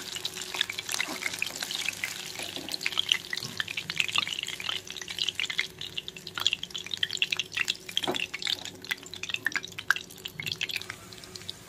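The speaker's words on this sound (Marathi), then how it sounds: "आणि हळू गॅसवर मिडियम गॅसवर तळणार आहे, तेव्हा ते क्रिस्पी होतील" Chicken lollipops fry in oil over medium heat, giving a close, continuous crackling sizzle with dense popping and dripping sounds throughout.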